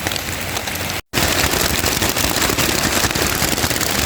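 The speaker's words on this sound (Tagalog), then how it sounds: "Grabe, ang lakas ng ulan guys." Heavy rain pours down hard and steady during a hunting trip, a dense close roar of drops drumming on surfaces with a brief dropout of silence near the start.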